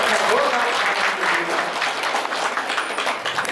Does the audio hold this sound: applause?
yes